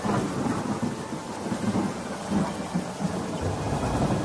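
Heavy rain pours steadily while thunder rumbles low and continuous throughout, a dense, loud storm with no pauses.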